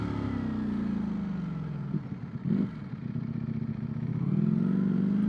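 A 2024 Ducati Streetfighter V4S motorcycle engine, a steady close drone with a brief clattering blip midway, then a rising pitch as the engine builds revs.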